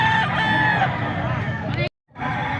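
A young rooster, a stag, crows loudly and close at a cheap chicken market in Angeles City, Pampanga, one long drawn-out call that breaks off abruptly, then resumes with crowd babble behind it.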